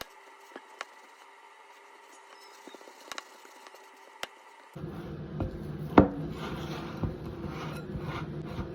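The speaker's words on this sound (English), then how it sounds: "Gonna get this as much stirred as possible with this spatula." Sourdough pizza dough being stirred with a spatula in a bowl, a few faint taps at first, then a sustained soft rubbing and scraping with occasional thumps, close and fairly quiet.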